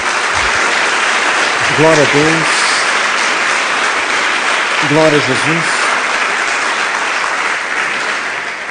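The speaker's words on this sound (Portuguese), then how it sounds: "Então dê uma salva de palmas a Jesus." A church congregation claps steadily throughout while voices call out short praises over the applause.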